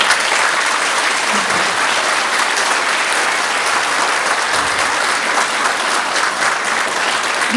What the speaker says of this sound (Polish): Proponuję, żeby w tej chwili po prostu brawa dla Madzi, dobrze?